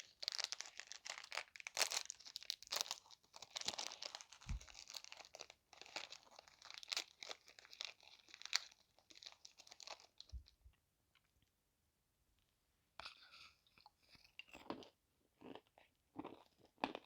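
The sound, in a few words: crunching and chewing American pretzel snack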